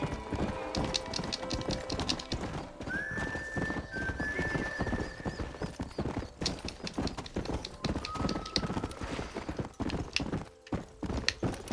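A horse gallops in Red Dead Redemption with rapid, steady clip-clop hoofbeats, joined by a couple of drawn-out whinnies, loud and close over game ambience.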